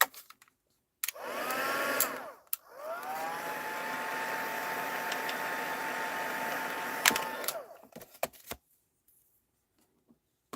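A heat tool used in paper crafting and stamping blows hot air in a steady, loud whirring whoosh for about six seconds after a short first burst, then clicks off.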